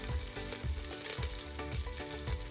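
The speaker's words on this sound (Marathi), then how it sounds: "आता आपण कढीपत्ता घालून घेऊया याच्यामध्ये" Curry leaves and garlic fry in hot oil in a home kitchen for a Konkani-style tripe dish, giving a dense, loud, continuous sizzle with soft rhythmic stirring pulses, close and alone.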